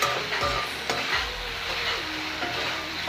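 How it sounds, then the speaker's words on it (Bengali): Tomatoes for rui fish kalia are stirred in a frying pan, with close spoon scrapes and knocks over a steady sizzle and a brief thump early on. "এবার টমেটোটা দিয়ে একটু নাড়াচাড়া করব"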